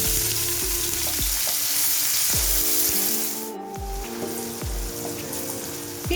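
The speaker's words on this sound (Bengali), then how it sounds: "পেঁয়াজ কুচিটা একটু আধ ভাজা করে নিলাম।" Three large chopped onions frying in oil in a pan for a hariyali chicken recipe, a steady close sizzle with occasional stirring knocks, briefly dipping midway before resuming.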